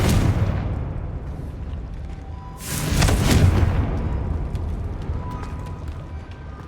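A Confringo fire spell bursts in Hogwarts Legacy, a rumbling blast swelling midway through a dense, noisy game soundscape with faint crackles trailing after.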